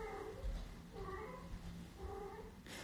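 A cat meows several times in drawn-out, wavering calls indoors, close and fairly loud, spaced about half a second to a second apart. A faint voice is in the background.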